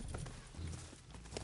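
Horse hooves clip-clopping in the video game Red Dead Redemption 2, a faint, quick rhythmic patter of hoofbeats heard briefly.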